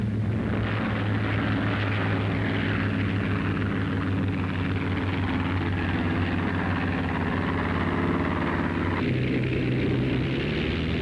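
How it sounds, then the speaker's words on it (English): Propeller fighter planes taking off from a Navy aircraft carrier flight deck in 1942, a loud continuous engine drone and roar that holds steady for the whole stretch with a slight shift near the end. "Wheeled to the flight deck, the speedy fighters are ready for the takeoff."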